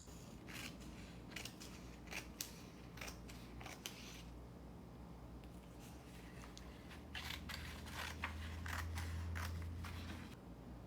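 Scissors snip through paper for a children's deep-sea craft, making a run of quick, crisp cuts in uneven bursts, close and fairly quiet over a faint low hum, with no talking.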